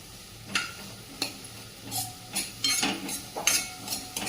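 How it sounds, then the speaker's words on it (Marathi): Shredded cabbage and cauliflower sauté in a pan for lemon coriander soup, a soft sizzle broken by a series of close spatula scrapes and stirring clatters against the pan. "थोडीशी कोबी घेतलेली आहे आणि थोडीशी फ्लावर घेतलेली आहे व्यवस्थित परतून घ्यायचे"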